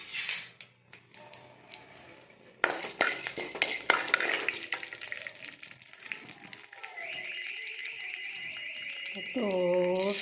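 Chana dal fries in oil in a pan, with a soft sizzle, scraping stirs and occasional clinks of utensils, and a voice faintly in the background.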